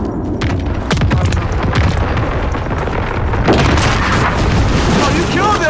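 A white phosphorus airstrike in a search-and-destroy shooter match lands as a loud, sustained rumble of explosions and bursts that fills the whole stretch, with voices talking faintly underneath.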